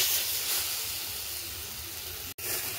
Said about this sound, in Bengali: এবার ডাল বাটাটা দিয়ে দেব।